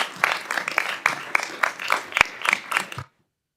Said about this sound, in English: I'd like to give them a round of applause for what they did.